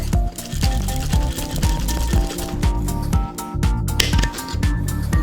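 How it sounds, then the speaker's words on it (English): A cocktail shaker tin holding an egg-based mix is worked in a vigorous reverse dry shake, producing a fast, steady rattling beat for the whole stretch over faint background music. "So this is process we're going to do a reverse dry shake."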